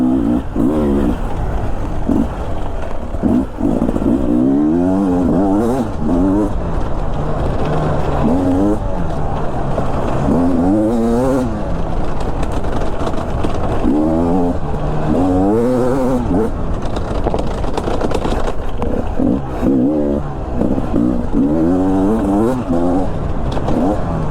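A Beta 300 RR Race Edition motorcycle ridden through trees, its engine loud and close, rising and falling constantly as the throttle opens and eases off across the whole ride.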